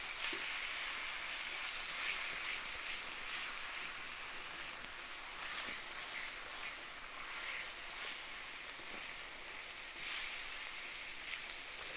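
Meat sears in a pan with a faint, even sizzling hiss that runs on steadily, picking up a few slight crackles along the way.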